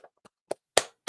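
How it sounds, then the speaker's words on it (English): A lone person claps by hand, five sharp, separate claps spaced about a quarter second apart. The first two are soft and the last three ring out louder and closer. "I could hit the applause button, but I'm just going to give you the, OG clap."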